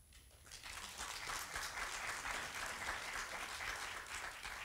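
Sustained audience applause fills the room at a government management event, a steady dense wash of clapping that holds at an even level throughout with no voices over it.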